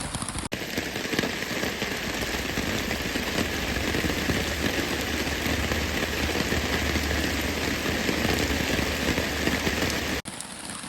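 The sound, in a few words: heavy rain falling on trail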